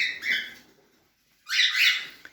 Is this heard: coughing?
no